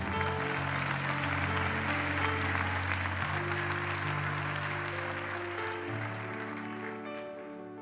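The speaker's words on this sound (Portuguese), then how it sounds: "Aplauda o Senhor." A church congregation claps during a sermon, steady sustained applause heard at a distance beneath a held organ or keyboard chord that shifts now and then, loud and continuous throughout.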